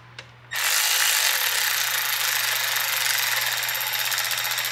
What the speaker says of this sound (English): So I'm going to tighten these screws up real quick.